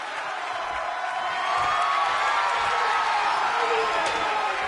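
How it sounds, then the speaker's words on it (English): A large crowd roars and cheers continuously at a professional wrestling show in a big indoor arena, swelling louder partway through, with a steady wash of noise. "Listen to this crowd."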